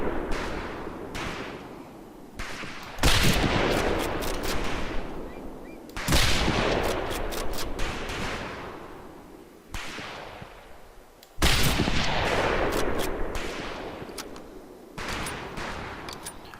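Gunfire in the World War II shooter Medal of Honor: Pacific Assault during a training level: loud, close rifle and heavy weapon blasts with long booming decays, several big shots and quicker bursts spread across the stretch.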